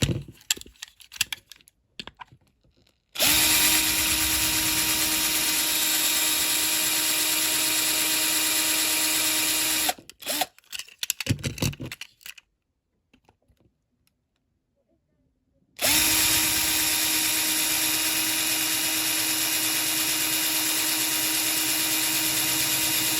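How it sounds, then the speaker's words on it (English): A power drill drilling out rivets on a Matchbox Jaguar XJ12 toy car whines loudly in two long sustained runs, separated by clanking and handling noises and a quiet pause. "So I'll drill into those."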